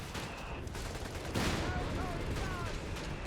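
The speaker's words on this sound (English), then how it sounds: "it looks like an artillery barrage was called down there in the middle." An artillery barrage rumbles in Company of Heroes 3, dense overlapping blasts and gunfire crackle continuously under the game's battle noise, with a louder burst midway.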